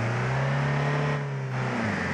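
A Ford Transit van in the BeamNG.drive video game revs on a snowy village road, its engine holding a steady loud drone that dips briefly then resumes, with no talk.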